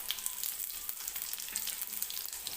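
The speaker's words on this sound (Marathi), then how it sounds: "आता जी आपण भेंडी भरून घेतली होती ती भेंडी तेलामध्ये टाकून घेणार आहे." Stuffed okra (bhindi) hitting hot oil with cumin in the pan, giving a steady, close crackling sizzle that runs throughout with no voices.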